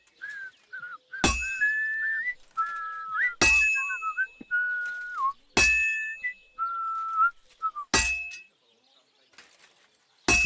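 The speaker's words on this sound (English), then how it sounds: "I don't know why he abruptly stops whistling." A character at a forge in the video game Kingdom Come: Deliverance II whistles a wavering tune. The melody repeatedly stops and restarts between sharp metallic clangs of hammering, with a final clang after the whistling ends.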